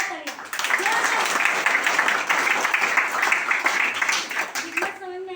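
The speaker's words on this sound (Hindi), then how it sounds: "जोरदार तालियां।" An audience at a marketing company's group leaders' speech event breaks into loud, dense applause, sustained clapping filling several seconds before tapering off.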